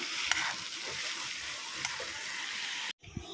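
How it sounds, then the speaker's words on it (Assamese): Pointed gourd and small potatoes fry in a hot pan with a steady, dense sizzle and occasional pops and stirring scrapes, close up, before cutting off briefly. "আজি মই পটল আৰু সৰু আলু গুটিৰ ভাজি"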